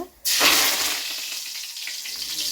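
Curry leaves and cumin dropped into hot oil for a brinjal curry burst into a loud, sudden sizzle that spits and crackles steadily, then eases slightly as it settles.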